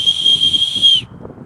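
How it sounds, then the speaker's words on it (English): A survival whistle built into a Les Stroud knife is blown once, a shrill, piercing, steady blast lasting about a second before cutting off abruptly, close and loud. "And then the whistle,"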